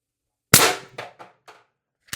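A Beeman BP50 HPA air rifle carbine with a 16-inch barrel and expansion module fires at 800 psi, giving one loud, sharp crack with a short ringing tail. A brief click follows, and nobody speaks.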